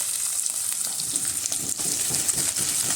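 Shallots, green chilli, garlic and curry leaves sauté in hot coconut oil for a bitter gourd thoran, giving a steady close sizzle and crackle with faint stirring and no talk.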